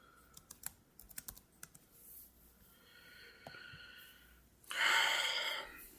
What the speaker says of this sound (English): you'll type in the property address that you're going to want to show for your clients